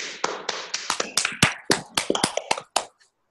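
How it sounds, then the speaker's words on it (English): A small group claps briefly, with about a dozen sharp, uneven, close claps that stop abruptly, leaving silence. The gathering is an online weekly call for a 100-day challenge. "A round of applause."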